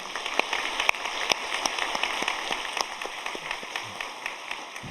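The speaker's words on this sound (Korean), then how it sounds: "인사하실 큰 박수로 환영해 주시기 바랍니다." A church congregation claps to welcome newly appointed pastors during a Sunday service, scattered sharp claps rising over a steady hiss, fairly quiet and distant.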